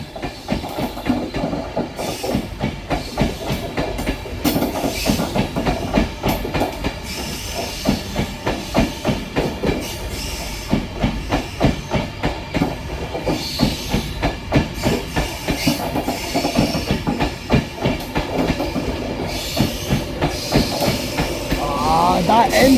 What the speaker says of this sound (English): LNER Intercity 225 set from Bradford Foster Square to London King's Cross.